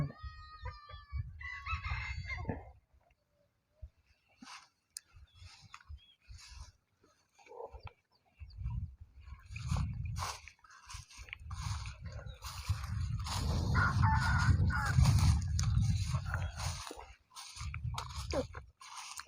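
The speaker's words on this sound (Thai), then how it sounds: "พาพี่น้องมาเบิงไก่แม่ลูกอ่อน กำลังพาลูก" Burmese fighting chickens, a hen with her chicks, cluck and chirp nearby, a rooster crows, and people talk over the birds with bursts of scratching and rustling.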